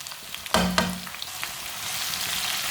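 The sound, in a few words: tomato and green chilli frying with browned onions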